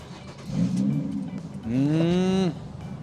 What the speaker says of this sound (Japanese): じゃあちょっと最後エンジンかけてみていいですかこれ